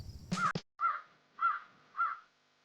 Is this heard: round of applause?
no